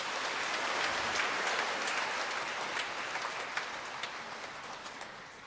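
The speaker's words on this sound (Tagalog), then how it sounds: "Pumalakpak ng malakas." Church congregation clapping loudly, a dense wash of applause that starts full and gradually tapers off over a few seconds.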